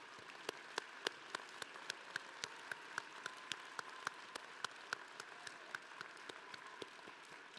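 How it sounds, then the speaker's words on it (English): Applause at a December commencement ceremony, faint and distant, with a broad soft wash of clapping punctuated by a few sharper individual claps in an irregular but steady pattern. "Please join me in applause."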